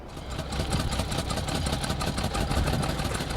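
An early Vauxhall car's engine runs at a steady idle, a continuous close chugging rumble with a rapid, even mechanical beat.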